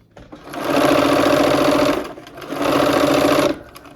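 A sewing machine stitches the pieces of a quilt block in two close, loud bursts of rapid, even whirring, each about one and a half seconds long with a short pause between.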